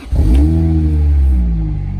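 A 2010 Lotus Elise SC supercharged engine starts up and revs hard close by, a loud rising growl with strong harmonics that holds steady and then eases slightly over about two seconds, no voices present.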